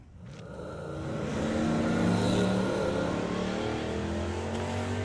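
A Camaro launching at a Summer Nationals drag race, its engine surging from a rumble into a loud, sustained roar that holds steady as the car pulls away.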